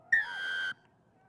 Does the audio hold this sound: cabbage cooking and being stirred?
no